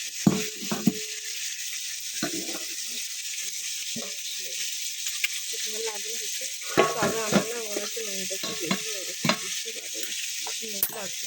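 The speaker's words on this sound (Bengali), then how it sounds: "কড়াইয়ে তেলও দিয়ে দিয়েছি মাথাটা ভেজে করে নেব" A fish head fries in hot oil in a wok, with a steady sizzle running throughout, scattered clinks and stirring knocks, and faint voices in the background.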